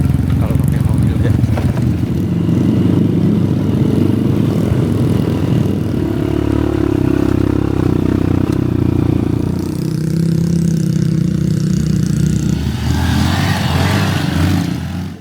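A trail motorcycle engine runs steadily and loudly at close range throughout, a continuous low rumble with slight shifts in pitch, no voices.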